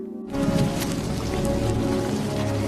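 Rain pours in the film War Horse, starting abruptly as a dense, loud, steady hiss and patter over soft ground.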